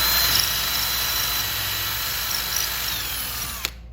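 Power drill boring a shallow alignment pin hole into a wooden block for a take-down recurve bow riser, a steady high whine running continuously and close before cutting off abruptly near the end.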